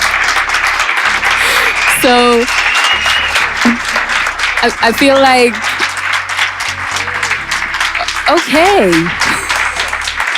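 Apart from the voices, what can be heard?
audience applause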